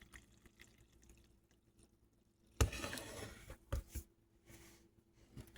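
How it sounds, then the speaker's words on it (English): A brief gush of water, about two cups, splashes into a bowl of flour, followed by a few softer drips and trickles in a quiet room. "we're going to pour that right into the flour"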